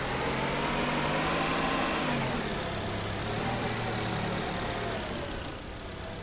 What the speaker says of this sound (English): Wow, this car's loud.